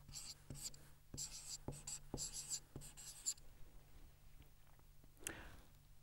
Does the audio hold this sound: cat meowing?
no